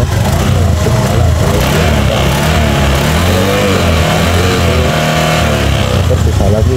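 A Honda Beat scooter with a faulty electric starter fires up and runs at a loud, close, rough mid-pitched engine note that rises and falls steadily, with someone talking over it.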